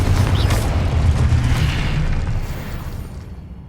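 A Confringo spell explodes in Hogwarts Legacy, a loud, deep, rumbling boom that fills the clip and slowly trails off over a few seconds, with no voices.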